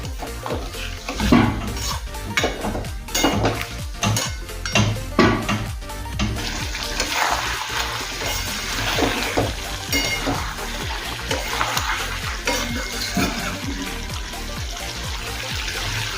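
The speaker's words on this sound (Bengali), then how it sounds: "গ্যাসের ফ্লেম মিডিয়াম টু হাই রেখে মশলার সাথে সমস্ত সবজি ভালো করে কষিয়ে নেব।" Vegetables and spices being stir-fried in a pan over medium-high gas flame for a thin rohu fish curry with raw banana, papaya and potato, with steady sizzling and repeated sharp clanks of a spatula against the pan.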